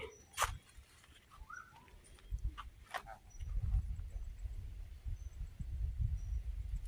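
A dog whimpers and gives a few thin high howls between rustling and low thumps, the animal fairly close but faint at first, with the background growing louder toward the end.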